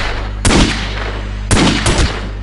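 Magnum gunshots in The Godfather PC video game: two loud, sharp pistol shots about a second apart, each with a short echoing tail, the second followed quickly by a third crack.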